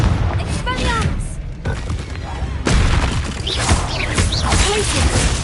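Confringo blasting spell explosions from Hogwarts Legacy on PS5, a sudden loud blast with crackling debris and whooshing magical effects, layered over game music and sound effects.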